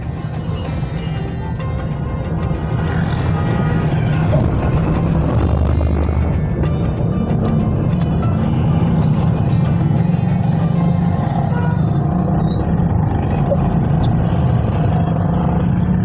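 Steady road traffic at Minchinabad chowk on Multan Road in Bahawalnagar, a busy junction with cars and trucks passing, engines rumbling and occasional brake hiss, continuous and fairly loud throughout with no talk.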